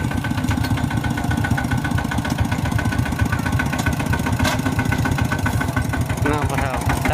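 A farm tractor's engine runs steadily and close by throughout, a dense low rumble with rhythmic pulsing, while people talk over it.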